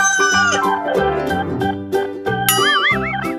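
A farm rooster crows in a long, clear call with a wavering high tail, loud and close, set among musical chimes and tones.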